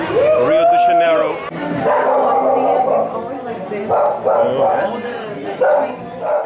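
Dogs yip and bark in a busy street market in a Rio de Janeiro favela, mixed into a steady crowd of voices and nearby talking.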